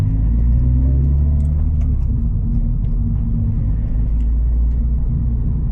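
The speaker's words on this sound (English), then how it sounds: "Cracking little car this, the GTR86." A Toyota GT86 sports car gives a steady, loud low engine rumble that holds evenly throughout, with no voices heard.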